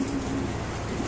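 A pair of beauty pigeons coos at a fancy pigeon farm, a soft, steady murmur heard against continuous low background noise.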